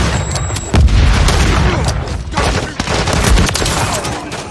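A Semtex grenade blasts with a deep boom in a first-person shooter on the Lockwood 680 map, followed by dense bursts of gunfire and scattered explosions, loud and close.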